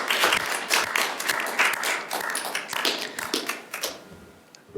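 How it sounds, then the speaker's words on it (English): Audience applause at an awards ceremony for award winners: a crowd of many hands clapping steadily at moderate loudness, thinning gradually toward the end with a few final scattered claps. "we should all give our award winners one last clap"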